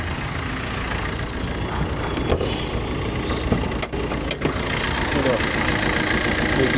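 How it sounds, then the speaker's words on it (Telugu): A used car's engine idles steadily at close range, a continuous low rumble with a few faint clicks and knocks riding on it. "మీకు ఇంజన్ సౌండ్ వినిపిస్తా చూడొచ్చు సార్."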